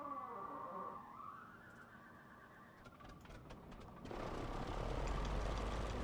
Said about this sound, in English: Start engine.